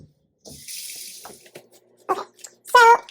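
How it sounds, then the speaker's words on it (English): A kitchen tap runs as hands are washed after handling pork chops, with a short hiss of running water at the start followed by splashing bursts near the end, close and moderately loud. "Now I'm gonna wash my hands."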